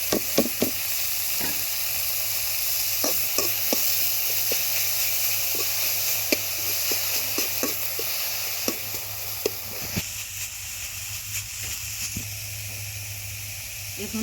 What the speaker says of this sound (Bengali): এখন আমি এই গাজরগুলোকে একটু ঘিয়ের মধ্যে ভাজে নিব